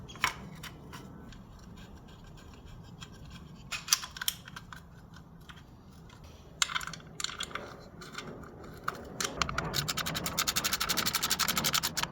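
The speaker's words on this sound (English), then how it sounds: "I went ahead and cut apart our filter" An oil filter from a 2022 DRZ400 motorcycle being cut apart, with scratchy rasping and clicking cuts that grow denser and faster toward the end, heard close up.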